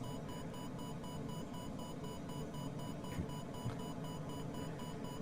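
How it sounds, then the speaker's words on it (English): Glider variometer in Microsoft Flight Simulator 2020 beeping steadily in a thermal over the Pyrenees, a continuous run of repeated electronic tones at an even rhythm, loud and close, with no talk over it. "you really need to listen to the sound of the beeping, the tone, be able to anticipate where the strongest part of the lift is"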